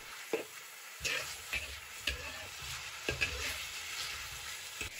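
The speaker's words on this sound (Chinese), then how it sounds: "大火煸炒，豆角已经蒸过了，熟起来很快。" Steamed green beans are stir-fried in a wok over high heat: a steady sizzle with rhythmic scraping strokes roughly once a second, close and fairly loud.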